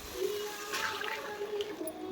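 Thin gram flour batter mixed with water poured into a pot while making kadhi in a home kitchen, a faint, soft liquid splashing and trickling that pulses briefly, with light background noise.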